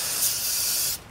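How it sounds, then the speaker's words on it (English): Brake cleaner sprays onto a Toyota Camry wheel bearing housing in one continuous, close, loud aerosol hiss of about a second that cuts off sharply. "I'm just gonna wash it out with a little brake clean."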